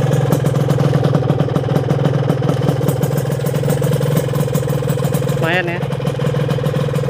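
A cold two-stroke motorcycle engine burning JASO FD oil idles steadily with a close, constant low rattle and mechanical clatter, and someone speaks briefly over it near the end.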